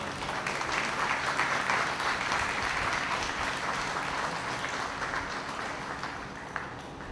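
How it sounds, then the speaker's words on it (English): A large crowd claps steadily and loudly at a Hall of Distinction ceremony, sustained applause filling the room without pause before easing slightly at the end. "let's have a large round of applause for Ben Nelson right now"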